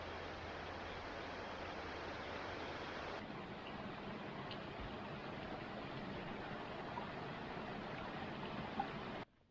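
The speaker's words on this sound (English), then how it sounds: "this is the upper Doyles River Falls" Upper Doyles River Falls, a waterfall in Shenandoah National Park, pours with a steady, dense broadband roar that stays constant and close throughout before cutting off at the end.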